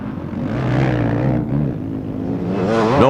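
250cc motocross motorcycles race past at a Brazilian championship round, engines loud and close. The pitch climbs and falls as the bikes sweep by, and a second whine rises sharply toward the end.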